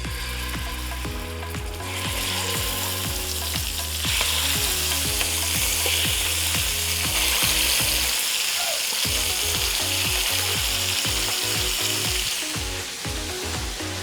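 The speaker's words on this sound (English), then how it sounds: "we will be frying the chicken" Loud, continuous sizzling and crackling of chicken frying in hot oil for a stew, with rhythmic scraping or stirring clatter underneath.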